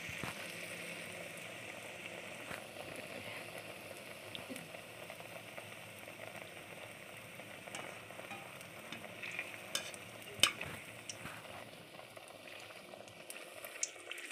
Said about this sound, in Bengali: তেলটা অনেকটাই গরম হয়ে গেছে বলে বড়াটা ফুলে উঠেছে।